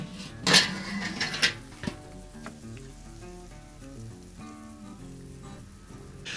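Chicken wings sizzle steadily on an opened smoker grill, a continuous frying crackle. A few louder bursts near the start, probably the lid opening and handling, give way to a steady sizzle over low hum.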